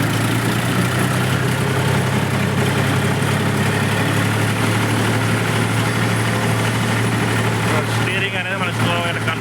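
A Mahindra 275 tractor engine runs steadily at a low, even rumble, loud and close throughout, with a person talking over it.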